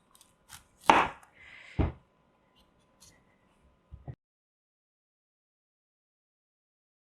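A knife cuts the sprout tops off beets and sweet potatoes on a board, giving a few sharp separate chops in quick succession, then near silence with faint taps.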